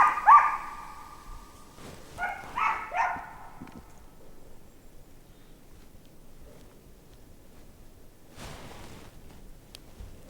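A Drever hunting dog barks during a roe deer hunt in the forest, a few distant yelping barks in a cluster, then quiet woodland air with a faint rustle near the end.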